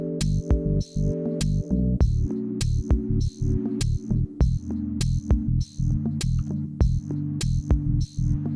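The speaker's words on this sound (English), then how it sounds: "It sounds kind of like very muted, very filtered bass guitar, even though it's just a FM modulated sine wave." A synth bass made from an FM-modulated sine wave, muted and heavily filtered like a plucked bass guitar, playing a steady repeating pattern of short notes with sharp clicky attacks and a regular pulsing beat, alone without voices.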